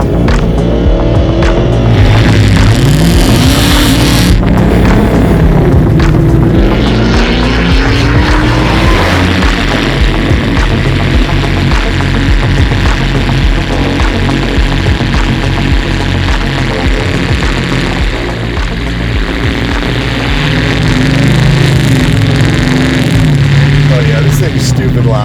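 A 1,300 hp custom widebody Dodge TRX drives with a loud, continuous engine roar that rises and falls, heard from inside with people talking over it.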